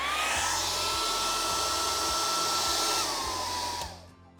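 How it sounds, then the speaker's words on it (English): A hairdryer blows steadily at close range with a high whine and airy rush, then winds down and cuts off near the end. "you can use a hairdryer, setting it at a warm temperature"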